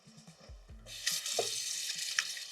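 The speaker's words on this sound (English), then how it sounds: "just gonna wash my hands real quick" Running water splashes at a kitchen sink while hands are washed, a steady hiss from the tap that kicks in after a few low clunks and continues moderately loud.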